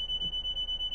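A high steady alarm tone in the train simulator game Train Sim World 4, a continuous piercing beep held throughout with a soft, regular pulsing underneath, loud and alone without speech.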